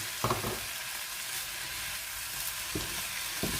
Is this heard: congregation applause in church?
no